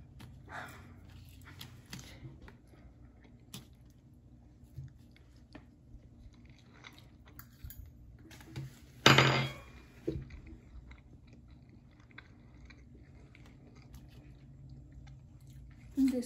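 Someone quietly chewing a bite of quail egg and chicken egg, with soft, faint mouth and jaw sounds spread through a mostly quiet stretch, broken by one louder rustling burst midway.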